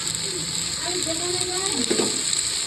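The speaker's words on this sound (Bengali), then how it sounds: "এর মধ্যে সামান্য একটু আমি জিরে গুঁড়ো অ্যাড করে দিয়ে আমি একটু পাতাগুলো স্লাইড ভেজে নেব" Spinach leaves frying in a pan with a little cumin powder, a soft steady sizzle with faint stirring clicks and a few scrapes, fairly close.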